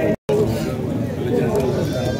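Sheep and lambs bleating at a livestock market in Khachmaz, with overlapping bleats mixed into a busy crowd where people talk loudly throughout.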